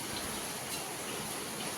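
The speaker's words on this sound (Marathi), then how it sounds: "खूप सारं पाणी पडते, खूप सारं." Heavy rain pours down in Pune as a dense, even roar of water that fills the whole stretch without a break.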